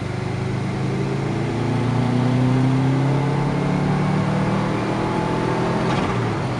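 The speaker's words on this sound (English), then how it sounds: "Going to take this thing for a little test drive real quick" The engine of a 2002 Subaru WRX with a TD04 turbo and about 260,000 miles pulls hard on a test drive, a loud, sustained droning roar that climbs slowly in pitch, heard from inside the car.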